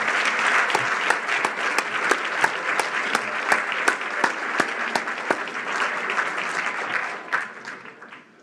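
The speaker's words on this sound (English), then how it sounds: "Very big applause up to hall number 4." A conference hall audience at a shipping forum applauds loudly and continuously, dense clapping with sharper individual claps standing out, fading near the end.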